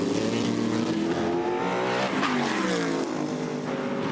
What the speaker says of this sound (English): Just trading the lead at the moment, so Collins goes back into it